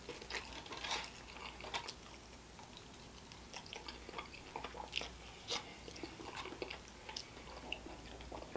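Close, quiet chewing of Wingstop chicken wings with crisp crunches and wet mouth sounds, irregular bites repeating over several seconds with no talking.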